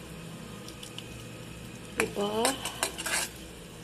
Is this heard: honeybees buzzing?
no